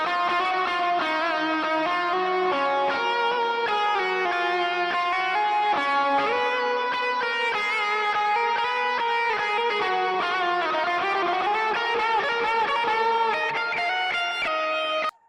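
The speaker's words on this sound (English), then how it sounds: "Now let's listen to that again, but with the bigger delay and reverb" Electric guitar lead run through a Quad Cortex with a large delay and reverb, sustained notes blooming into dense washing echoes, loud and continuous with no talking.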